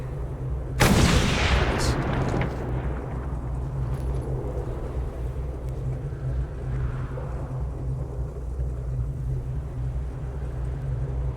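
A single loud grenade blast in the Mad Max video game, a sharp burst near the start that decays into a long rumbling tail over a steady engine drone.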